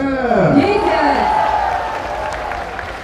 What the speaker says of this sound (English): crowd getting involved in this now